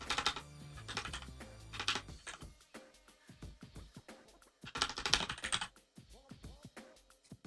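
A loud computer keyboard clatters under rapid, uneven bursts of close-up keystrokes during Minecraft play, with a few brief pauses and no clear speech.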